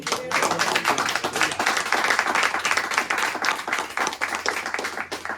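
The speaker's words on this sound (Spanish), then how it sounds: "Den un aplauso a Cristo." Church congregation clapping for Christ during a Spanish-language sermon, a dense rhythmic applause of many hands that is loud and close and lasts several seconds, with faint voices mixed in.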